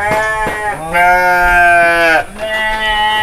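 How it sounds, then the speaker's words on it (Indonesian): Sheep bleat near a rural village set among hillside rice fields at Kampung Teruju, giving several long, wavering, loud calls close by, one after another with short gaps. "Domba tuh."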